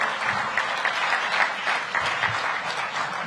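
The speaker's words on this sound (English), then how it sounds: "Let's give Fred a round of applause." Audience applause at a ceremony, steady dense clapping from a crowd, fairly loud and sustained for the whole stretch.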